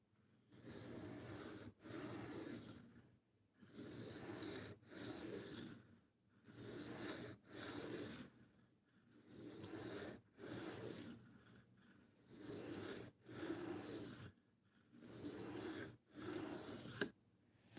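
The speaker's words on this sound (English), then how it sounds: "the stone that I'm using right now is a 600 grit DMT" A blade is honed on a 600 grit DMT diamond sharpening stone in steady, rhythmic rasping strokes, about nine of them, often in pairs, each a close, gritty scrape separated by short silences.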